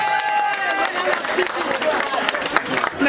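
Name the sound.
audience applauding at a 60th birthday party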